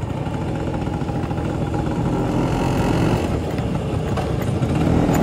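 An LML NV scooter runs steadily on the move, its engine hum blended with a constant rush of wind and road noise at an even, fairly loud level, with no talk.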